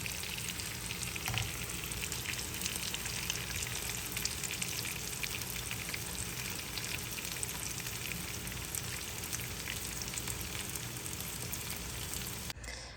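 Breaded salmon katsu fries steadily in a pan, a dense continuous sizzle and crackle close up that holds at an even level throughout, with no voices.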